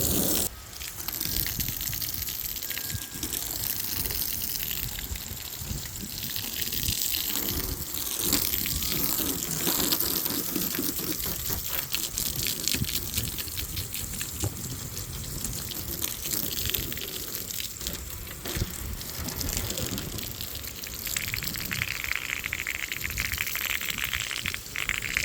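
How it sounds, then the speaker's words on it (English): Water sprays steadily from a hose, rinsing down a car before a two-bucket wash, a loud continuous gushing hiss that runs unbroken with shifting splashes as the stream moves across the panels. "After you get the car rinsed off like this."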